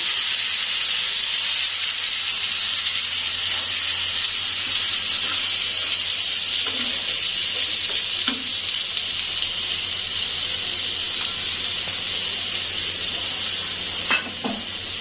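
Onion paste frying with ginger-garlic paste in a pan gives a steady, loud sizzle and hiss throughout, with a few faint stirring clinks and no talking.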